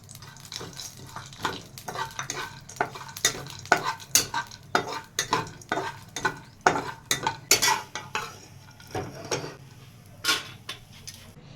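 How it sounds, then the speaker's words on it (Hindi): Dry fruits roasting in ghee in a pan, a spoon stirring and scraping in quick rhythmic strokes over a low continuous sizzle, close and fairly loud, no voices. "इसमें ड्राई फ्रूट भूनेंगे।"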